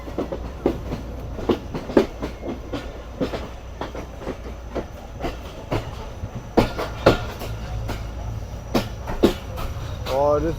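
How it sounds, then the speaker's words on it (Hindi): Sukkur Express train approaching along the track, its wheels beating a loud, irregular clickety-clack of sharp rail joint knocks over a steady low rumble. "काफ़ी अच्छे ट्रैक साउंड के साथ ट्रेन हमारी अप्रोच बना रही है"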